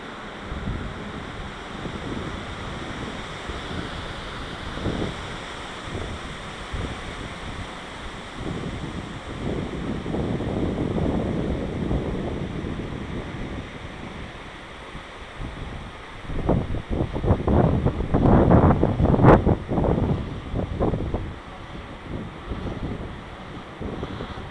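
Wind blowing outdoors during a drone test flight with a DJI Phantom 4, a steady rushing roar buffeting the microphone, swelling into stronger gusts near the end, with no voices.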